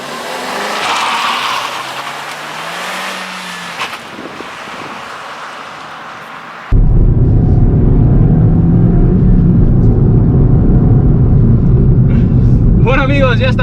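A 2022 Suzuki Swift Sport accelerates hard. A wind-buffeted passage with some engine tone gives way to a loud, steady engine drone that runs to the end, with tire squeal or whine rising at the close.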